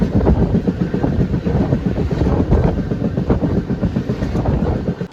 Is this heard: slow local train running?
yes